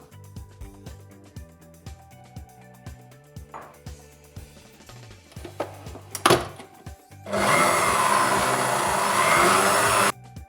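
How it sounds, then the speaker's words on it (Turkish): An electric mixer whisks eggs, powdered sugar, flour and starch for a San Sebastian cheesecake, a steady loud whirring drone for several seconds after scattered tapping and clinking of bowls and utensils. "Görmüş olduğunuz şu üzerindeki sarılıklar gidinceye kadar arkadaşlar çırpıyoruz."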